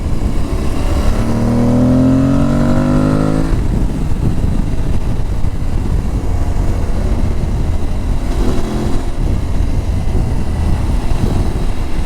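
An Aprilia Tuareg 660 motorcycle engine revs up with a rising pitch, then settles into a steady rumble, with a second brief rev near the end.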